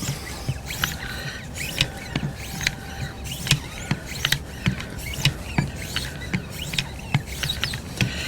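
Knife blade drawn repeatedly along a leather strop on a Wicked Edge WE130 sharpener, giving a steady rhythm of soft rubbing strokes and light clicks, close and moderately loud.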